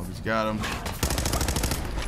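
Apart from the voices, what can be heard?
automatic gunfire in video game Fallout 4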